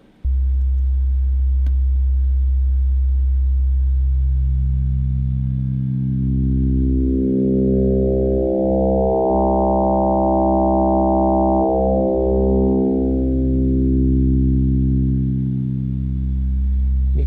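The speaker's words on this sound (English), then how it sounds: "it's going to start modulating the first sine wave with the second sine wave" A steady electronic sine tone that gradually gains bright harmonics as a second sine wave FM-modulates it, the timbre swelling richer and then thinning back out, loud and continuous.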